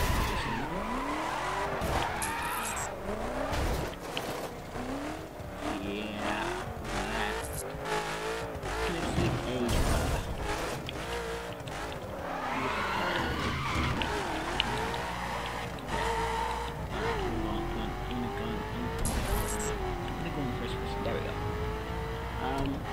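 A Koenigsegg Agera in The Crew video game drives through a city, engine rising and falling through gear changes with squealing tires and skids, steady and continuous under occasional voice.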